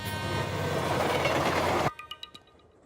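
A train running in a Telugu film scene: a loud, dense rumble of wheels and carriage that cuts off abruptly partway, leaving a few sharp clicks in a quieter tail.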